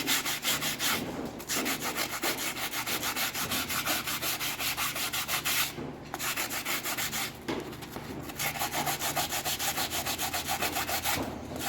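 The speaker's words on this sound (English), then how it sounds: "So I'm just using a sanding block." A sanding block rubs over a repaired spot on a Penetreat bear, giving steady back-and-forth scratchy strokes with a few brief pauses, close up and without speech.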